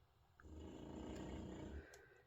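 Lexi snoring nearby, one long rough drawn-out breath that swells and rumbles for about a second and a half before fading back to quiet.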